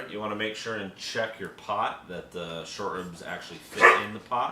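A dog barks a few times in the background while a person talks steadily in the foreground.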